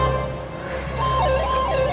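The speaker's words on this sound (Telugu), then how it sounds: "కానీ అంబులెన్స్ చప్పుడు పెట్టి గుండె తత్తలాడిపోతుంది" An ambulance siren starts wailing midway, its tone sweeping up and down in repeated loops over a steady low rumble of traffic, fairly loud and close.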